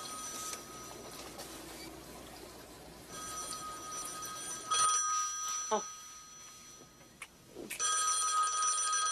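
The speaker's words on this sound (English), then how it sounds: "answer the phone." A telephone rings in a domestic scene from a Lifetime drama, repeated bright electronic ring bursts, fairly loud and close, with a few clattering sounds between rings.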